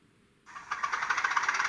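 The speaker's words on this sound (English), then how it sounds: "F1 is engine start, so it should start up any second." Class 37/7 diesel locomotive engine start from a model DCC sound decoder: a click, then a rising mechanical clatter settling into a steady, loud rhythmic idle chug, heard alone.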